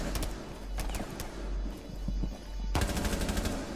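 Rapid gunfire in a tactical shooter video game, a dense string of sharp automatic shots close and loud, with a short pause before another fast burst.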